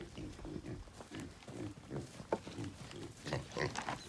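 Pigs grunting and oinking on a farm on a rainy day, with goats nearby; repeated low grunts come in short bursts close by, mixed with movement noise and occasional human talk.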